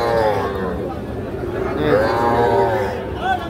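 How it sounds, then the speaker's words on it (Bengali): Young bull calves moo and bellow close by at a cattle market, amid a busy crowd of voices talking in the background. "ষাঁড় বাচ্চা এগুলো।"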